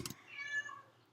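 A pet cat gives one drawn-out, rising-and-falling meow close by, opening with a brief rustle or bump and trailing off quietly.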